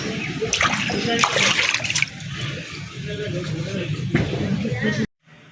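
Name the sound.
washing fresh snakehead fish in water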